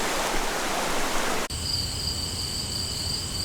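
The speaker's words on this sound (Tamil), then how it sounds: "இந்த தண்ணி தான் வந்து ஃபால்ஸில் போய் விழுகுது." Clean mountain stream water rushes steadily toward a waterfall in the Javadhu Hills, a dense, continuous hiss with no voices and a thin high insect-like whine joining partway through.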